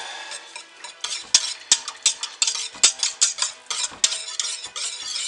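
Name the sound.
stirring apple sage scent into soap batter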